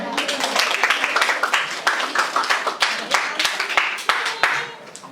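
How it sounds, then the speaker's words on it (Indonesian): Audience clapping at a church class promotion ceremony, a steady patter of many hands with some voices mixed in. "Ya, tepuk tangan dulu."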